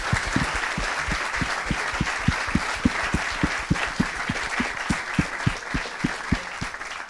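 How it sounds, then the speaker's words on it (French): A conference audience applauds after a talk by Admiral Nicolas Vaujour on nuclear weapons, cyber and naval conflict, with sustained, even clapping filling the hall and a steady rhythmic clap or stomp beat running through it. "On peut vous applaudir de nouveau."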